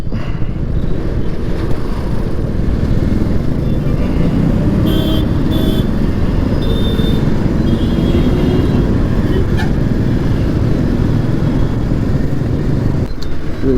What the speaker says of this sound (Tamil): மெயின் ரோடுங்கிறனால லாரி எல்லாமே வந்து ஓவராக போயிட்டுருக்கும்